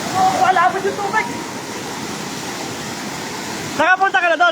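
Sprite Falls waterfall pours as a continuous, full rush of falling water, nearby and loud, with people talking over it at the start and again near the end.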